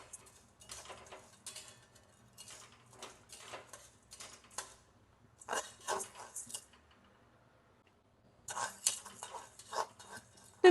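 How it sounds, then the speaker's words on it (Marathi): A spoon scrapes and stirs barnyard millet and sago roasting in a pan on low heat, in gritty rhythmic bursts with short pauses, close and moderately quiet. "ही पण चांगली भाजून घ्यायची शाबू आणि वरई"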